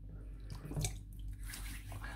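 Water splashing as shaving whiskers are wetted, a brief burst of dripping and swishing near the middle over a steady low background hum.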